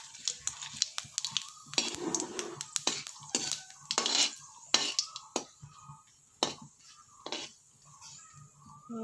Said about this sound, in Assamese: এইখিনি অলপ লৰাই দিম।